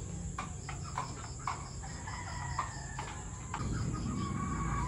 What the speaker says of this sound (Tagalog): So ito yung mga pullets namin.